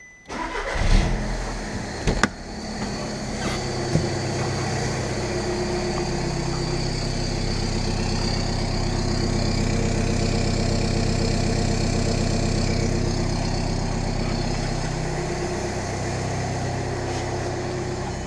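A diesel car engine cranks and catches with a few sharp knocks, then settles into a steady, rumbling idle close by.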